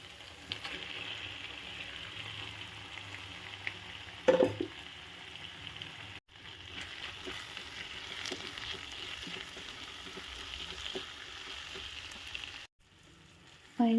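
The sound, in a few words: mushrooms frying in a pan for chilli mushroom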